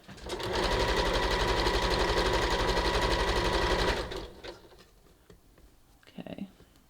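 Sewing machine running steadily while stitching nylon swimsuit fabric for a shelf bra with custom cups, a loud continuous mechanical whir lasting about four seconds before stopping, followed by faint handling noises.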